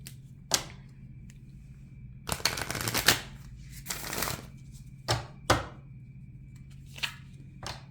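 Oracle cards are shuffled in quiet, close bursts of riffling and flicking, with one longer run of rapid card slaps and several sharp single snaps between pauses, and no voices.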